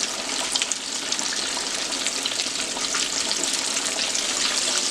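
Hot oil fizzes and crackles in a steady, dense sizzle as bacon mac and cheese bites deep fry toward golden brown, close and continuous without talk.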